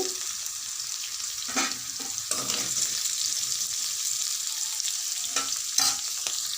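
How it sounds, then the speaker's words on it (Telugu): Drumstick pieces fry in a pan with salt and turmeric, giving a steady close sizzle throughout with several sharp stirring scrapes and clatters from the utensil. "ఇందులో కొద్దిగా సాల్ట్, కొంచెం పసుపు వేసి ఒక 2 నిమిషాలు వేపుకోవాలి"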